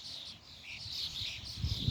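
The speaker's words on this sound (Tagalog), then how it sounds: "Daming ibon." A flock of birds chirps faintly in a brief burst of overlapping high tweets, with no voices.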